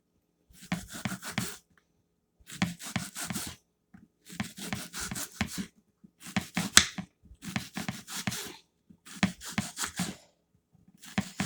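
Knife chopping the second half of an onion on a cutting board, quick bursts of close, crisp cuts in six rhythmic runs separated by short pauses, no talking.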